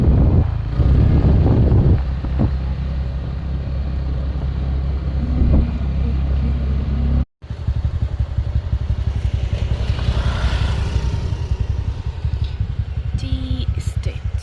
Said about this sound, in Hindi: इस पतली से पुल पर हम लोग बाइक में जा रहे